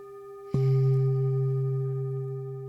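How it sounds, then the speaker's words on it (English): A root chakra singing bowl is struck once and rings with a steady, pure, sustained drone that fades slowly, close and calm with no talking. "Allow the sound of the root chakra bowl to penetrate your ears"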